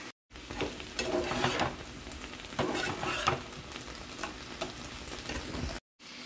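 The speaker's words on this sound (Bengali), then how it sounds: "সব কিছু একত্রে বেশ কিছুক্ষণ ভেজে নেব।" Beef roll filling with salt and black pepper fries in a pan, a steady sizzle with scraping and clinking stir strokes, close by, set between short silent gaps at start and end.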